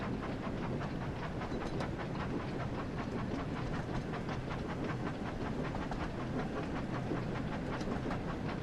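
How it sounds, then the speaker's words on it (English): A train in a Thomas and Friends video game runs steadily along the line at about 25 miles an hour, a continuous even rumble with faint rhythmic clatter and no talking. "Travel down the line and find Diesel."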